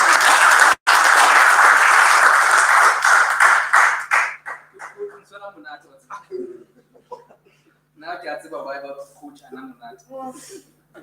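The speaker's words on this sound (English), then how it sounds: "Let's give a warm round of applause." A virtual unveiling function where a warm round of clapping rises loudly for about four seconds, broken by a brief dropout, then fades as a voice begins speaking and continues intermittently.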